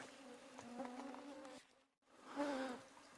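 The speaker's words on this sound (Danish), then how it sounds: "De er bare overalt, myggen." Mosquitoes swarming outdoors during a multi-day wilderness boat trip, a thin high-pitched whining buzz passing close, fading briefly and then rising again near the ear, quiet and alone.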